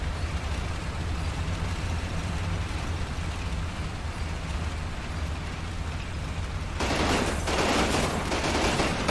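Gunfire from the video game Combat Mission Rome to Victory forms a dense, steady roar of distant small-arms fire, growing harsher and louder near the end, with no speech.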